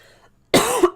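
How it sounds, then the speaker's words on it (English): A single loud, close cough after a near-silent moment, one sharp burst with a short rasping tail. "Excuse me, sorry for the cough."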